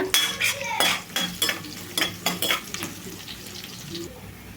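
Salted onion pieces fry in a pan over a soft sizzle, punctuated by a run of sharp metal clinks and scrapes from a spoon stirring against the pan, close by and rhythmic. No one speaks.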